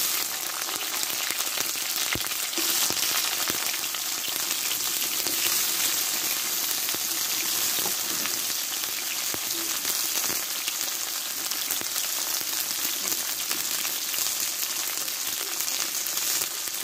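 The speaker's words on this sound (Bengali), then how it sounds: "কড়াটা গরম করে নিয়েছি, আমি তেলটা দিয়ে দেবো। দিয়ে করলাগুলো আমি ভালো করে কষে নেব।" Bitter gourd frying in hot oil in a heated wok, an even, rain-like crackle of close sizzling with a few sharp pops, steady throughout and with no voices.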